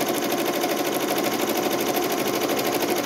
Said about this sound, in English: what it's going to be doing now is going to embroider the stitching around, the edging stitching